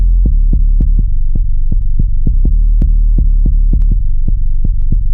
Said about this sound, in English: There's also 808 pattern right here that has a pretty nice bass line that I made.